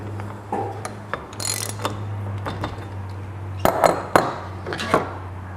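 Fork cap being tightened on 4CS motorcycle forks: a series of close, irregular metallic ratcheting clicks and clinks from hand tools over a low steady hum.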